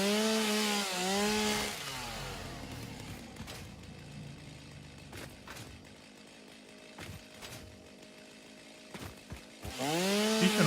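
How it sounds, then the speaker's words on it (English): A chainsaw in the video game Satisfactory revs in loud rising-and-falling bursts at the start and end while clearing trees, with a steady rougher cutting drone and scattered sharp knocks in between. "You can also pick up leaves with the chainsaw."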